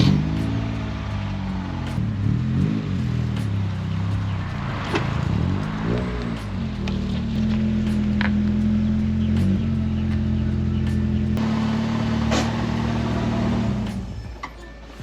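A Nissan Pulsar SSS with an SR20 engine idles and pulls away after two weeks sitting, a steady engine drone with rising and falling revs as the car moves, close and continuous throughout.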